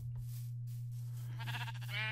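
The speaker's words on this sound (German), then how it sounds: "Oder da, da vorne ist ein Schaf." A sheep in the Minecraft video game gives a couple of short, wavering bleats over a steady low hum.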